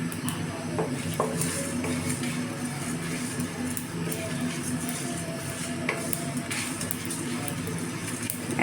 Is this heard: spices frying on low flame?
yes